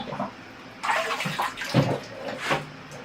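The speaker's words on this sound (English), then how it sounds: "I'll give the forest a good watering" Water pours and splashes across a larch bonsai forest planting in steady bursts, loud and close, with no talk.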